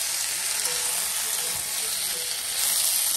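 Cubed ash gourd sizzles in hot oil in a pan tempered with bay leaf, nigella seeds and green chili, a steady close frying hiss throughout.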